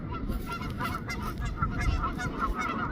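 Several geese honk repeatedly in an overlapping, raucous chorus, fairly close, over a steady low rumble of wind and water.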